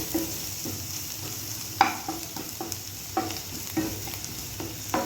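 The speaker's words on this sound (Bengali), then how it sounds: "এবার সব কটাকে ভালো করে মিশিয়ে নিয়ে একটুখানি ভাজা ভাজা করে নেব" Spice and potato mixture frying in a pan for a Bengali home-cooked meal, a steady close sizzle broken by repeated scraping stirs of the spatula, a few sharper clicks against the pan, no voices.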